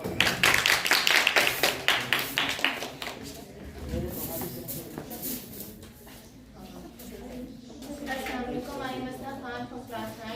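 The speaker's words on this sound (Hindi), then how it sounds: "आपकी भरपूर तालीम में इस्तकबाल करें असना खान।" An audience at a school physics quiz contest claps to welcome a team captain, with a lively burst of clapping over the first few seconds that fades as a voice talks on.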